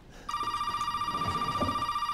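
A telephone rings in the Resident Evil VII Biohazard video game, a steady electronic trilling tone that starts abruptly and keeps going, loud and close with no talking.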